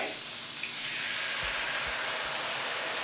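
Chili sauce poured into hot oil sizzles in a steady, loud hiss close up, with a few low thumps from the pan and no talking.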